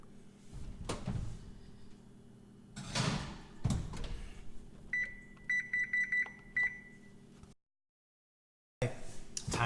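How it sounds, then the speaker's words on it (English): A kitchen oven timer sounds a quick series of short electronic beeps following door and cupboard clatter, then falls silent. "Timer just went off."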